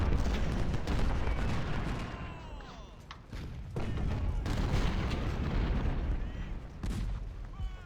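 Musket volleys from skirmishers in a Total War battle, American Civil War setting at Second Winchester, crackle as dense, repeated gunfire with scattered thuds and booms, continuous and fairly loud over a rumbling battlefield bed.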